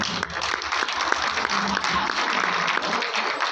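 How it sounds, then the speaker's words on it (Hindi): Audience applause at an award show in a hall, a dense steady clapping crowd filling the whole stretch with no break. "ताली जरूर बजाओ"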